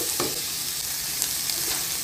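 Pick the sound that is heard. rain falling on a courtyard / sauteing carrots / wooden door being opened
sauteing carrots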